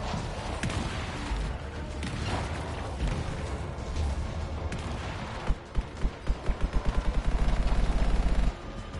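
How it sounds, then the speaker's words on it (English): An enemy cannon in the video game Anthem fires amid loud, dense battle noise, ending in a rapid string of heavy repeated blasts that pound in quick succession. "he's opening his fucking cannon"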